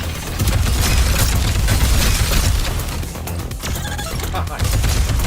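Grenade launcher blasts from the video game Deadlink, a dense run of loud, rolling booms and bursts that overlap almost continuously with barely a pause, dense combat noise throughout.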